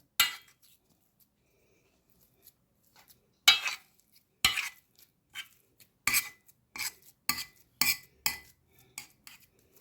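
Metal spoon scrapes and clinks against a serving plate while dishing out flour halva, a series of sharp taps, near and clear, with quiet pauses between scoops and no talking.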